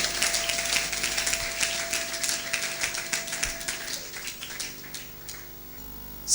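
A church congregation claps in acclaim of Jesus: steady, dense applause at moderate volume that fades out toward the end, with a faint sustained tone running beneath it for the first few seconds.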